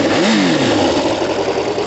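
A Kawasaki ZL600 cruiser motorcycle engine starts on the button and revs, a loud close rising and falling mechanical roar with rattly clatter.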